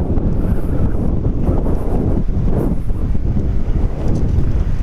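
Wind roars and buffets aboard a fast craft boat crossing rough sea, with a loud, continuous rush of waves churning beneath it.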